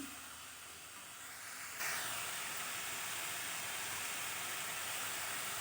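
Chopped cabbage is stirred into spice masala in a pan, giving a faint, steady sizzling hiss that grows slightly louder partway through and then holds evenly.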